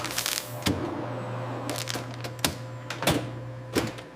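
A label printer labeling vacuum-sealed oyster packages in a processing plant, giving several short sharp clicks and clacks over a steady low machine hum.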